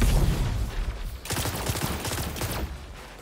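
Fighting Lion weapon fire in a shooter video game: dense, continuous bursts of gunfire and blasts roll on for several seconds at steady loudness, with no pause.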